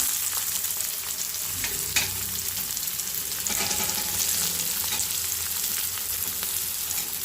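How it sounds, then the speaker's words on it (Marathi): Onion sizzles in oil in a kadhai with mustard seeds and cumin, a close, steady frying hiss broken by occasional stirring scrapes, with no voices. "कांद्याला जरा व्यवस्थित भाजून घेणार आहे तेलामध्ये"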